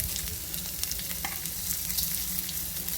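Cumin seeds frying in a pan with onion, garlic and ginger for green chilli chutney, giving a continuous close crackling sizzle with occasional scraping stirs.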